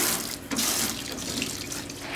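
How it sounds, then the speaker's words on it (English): Tap water runs steadily into a sink as fresh crappie fish fillets are rinsed, a continuous close hiss and splash with a brief dip in the flow near the start. "I'm going to wash these off before Jerry throws that one in there"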